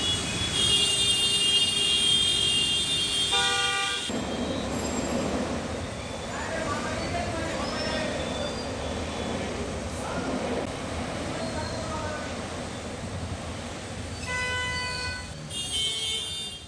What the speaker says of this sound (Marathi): अंधेरी सबवेजवळ प्रचंड वाहतूक कोंडी झाल्याचं चित्र पाहायला मिळतंय।